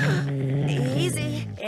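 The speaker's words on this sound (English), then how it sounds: "Nancy, that's a dog." Dog growling in the video game Nancy Drew: The White Wolf of Icicle Creek, a low, steady, rumbling growl held close and loud, tailing off briefly at the end.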